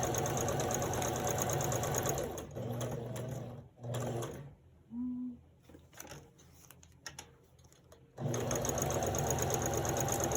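A Kenmore sewing machine about 25 years old stitches paper in fast, steady mechanical bursts that stop and restart, with quieter handling between runs and no talk.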